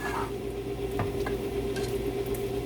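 Homemade tomato sauce simmers in a pot on medium low heat, a soft steady bubbling sizzle with a few faint stirring scrapes, close and continuous without talk.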